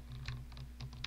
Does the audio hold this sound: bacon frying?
no